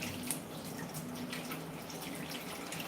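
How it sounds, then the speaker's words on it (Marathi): Lentils and rice rinsed in water for khichdi, a steady close wash of running and sloshing water with no talk. "तीन ते चार पाण्यांनी स्वच्छ धुवायचे डाळ तांदूळ"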